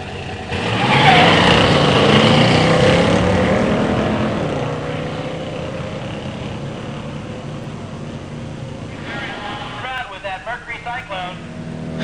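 Two 1970 muscle cars with automatics, a Mercury Cyclone Spoiler 429 SCJ and a Buick Grand Sport Stage 1, launch at a drag strip with a loud, close engine roar that fades into the distance, followed by a voice near the end.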